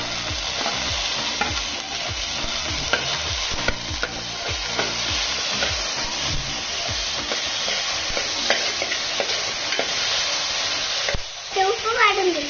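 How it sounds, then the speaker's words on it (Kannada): Chopped onions frying in a pan in a home kitchen, a loud continuous sizzle with repeated scraping and stirring strokes throughout, close and dense, briefly dipping near the end. "ಈರುಳ್ಳಿ ಫ್ರೈ ಆಗುತ್ತೆ"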